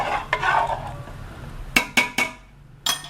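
Ghee rice being stirred and mixed with pepper chicken fry in a pot, soft scraping and shuffling followed by several sharp clinks of a spoon against the metal pot, close and fairly quiet.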